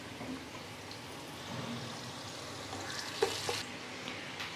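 Black pepper sizzling over a low flame in a pan for a pepper fry mutton dish, a soft steady frying hiss with faint scraping and a couple of brief clinks from stirring.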